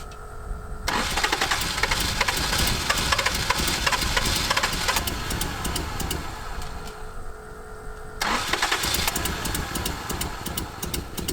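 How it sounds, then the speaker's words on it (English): A neglected Datsun 280ZX that sat for fifteen years cranks rhythmically, catches and runs rough, then cranks again in a second attempt, recorded up close. "So I'm going to spin it over and see if it'll run this time."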